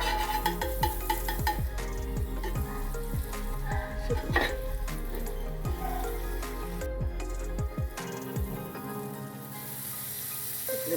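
Pav bread warms in butter on a hot pan, with a continuous soft sizzle and occasional scraping and tapping of a spatula.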